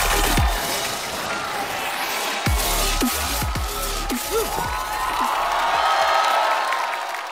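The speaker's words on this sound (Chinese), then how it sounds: "感谢你们敷衍的掌声啊" Studio audience at a Chinese roast comedy show applauding and cheering, a dense steady wash of claps with scattered whoops and shouts rising above it for several seconds.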